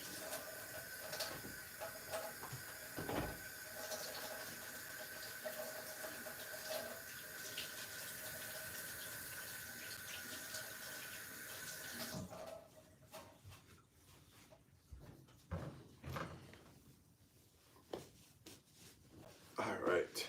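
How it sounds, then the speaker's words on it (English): A kitchen tap runs steadily for about twelve seconds as hands are washed before cooking lamb shank, a continuous broad hiss of water, then it stops, leaving quieter scattered handling clicks. "Let me go wash my hands really quick."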